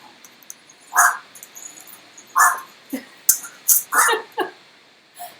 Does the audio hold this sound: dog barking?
yes